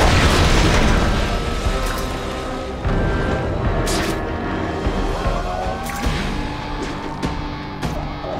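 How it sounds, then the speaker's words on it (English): A bomb explosion in The Amazing Spider-Man 2 game, a loud booming blast at the start that rolls into sustained rumbling debris and crashes, with sharper bangs and pops scattered through the following seconds. "Looks like a bomb went off."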